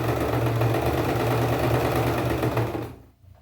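A sewing machine stitches fabric along a marked design in a beginner sewing exercise, running as a steady close whirring drone for about three seconds before it stops abruptly.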